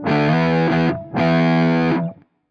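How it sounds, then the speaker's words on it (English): Stock setting of a Buzzbox fuzz pedal on electric guitar: two loud, thick distorted chords ring out in turn, each held for about a second before the second one fades out. "Let's then go to the buzzbox, and that's the stock sound."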